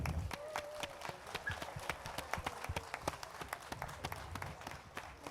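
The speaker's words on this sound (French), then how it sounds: "Je pense que ça vaut une belle main d'applaudissements." An audience applauds the organizers at the finale of an Acadian song competition on August 15, with many quick, scattered claps forming a moderate, continuous ovation.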